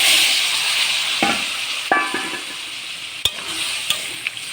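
Water poured over fried potato, bitter gourd and jackfruit seeds sets off a steady close hiss, with a few sharp clinks of a utensil against the pan.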